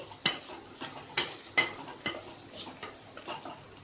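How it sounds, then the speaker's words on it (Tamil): Paneer pieces dropped into hot oil in a pan for palak paneer pulav, a soft frying hiss broken by several sharp spatula knocks and stirring scrapes at uneven intervals, quiet and close, with no voices. "இந்த எண்ணெயிலே நான் இந்த பன்னீர் போட்டுறேன். பன்னீர் போட்டு ஒரு வதக்கிக்கலாம்."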